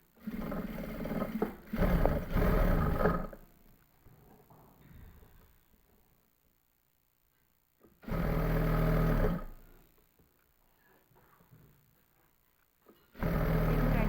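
A sewing machine stitching lace onto a dupatta or stole, running in loud steady whirring bursts of a second or more, separated by quiet pauses, close by.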